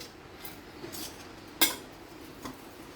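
A spoon stirs sabudana khichdi in a pan, faint and scraping, with one sharp metallic clink near the middle and a softer tap later.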